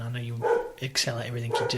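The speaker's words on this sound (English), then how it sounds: "you can hear the dogs barking in the background" Dogs bark in the background, a few sharp yips and barks rising under a man's steady speech in an indoor conversation.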